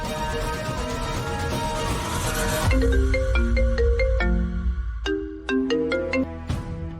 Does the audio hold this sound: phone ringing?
yes